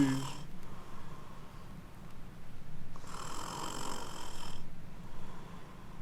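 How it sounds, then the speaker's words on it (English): A woman snores softly in two drawn-out breaths, each a raspy, airy rumble with a hissing upper edge, heard close in a quiet room with no talking. "She always snores like that when she's going off."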